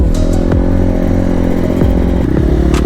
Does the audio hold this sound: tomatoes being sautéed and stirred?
no